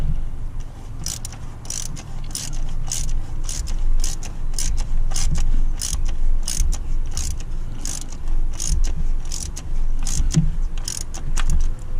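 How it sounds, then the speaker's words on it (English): A ratchet tightening an oil filter on a Ford F150, rapid repeated metallic clicks in quick bursts close to the microphone, continuing through the clip alongside a low background rumble. "And then I'll take my ratchet."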